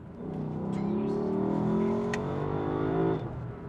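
A Lexus LC500 V8 engine in Sport Plus mode rises in a smooth, throaty rev on a downshift, holds for a few seconds, then drops off sharply; heard from inside the cabin.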